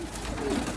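Red-eyed pigeons cooing, a soft low throaty coo rising briefly in one short burst, close and fairly quiet against light background noise.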